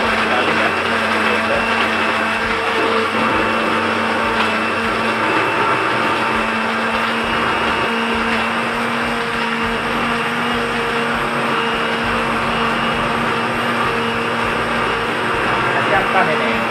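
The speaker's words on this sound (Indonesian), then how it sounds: "Nah, kita coba blender dulu." A kitchen blender whirs loudly and continuously while blending kitchen scraps, its motor holding a steady high-pitched roar from start to finish.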